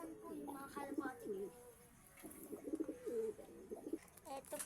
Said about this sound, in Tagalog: At ito naman po yung mga kalapate.